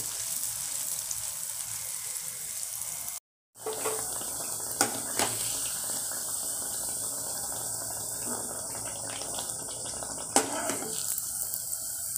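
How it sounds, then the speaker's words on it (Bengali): Banana malpua frying two at a time in hot oil, a steady soft sizzle running throughout with a few faint clinks of a utensil against the pan. "আমি দুটো দুটো করে ভাজছি"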